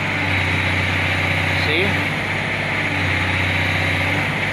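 Excavator engine running at low idle with low power, a steady droning hum with a constant low throb, loud and close, while someone speaks briefly over it.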